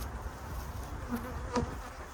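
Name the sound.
bees buzzing in an opened beehive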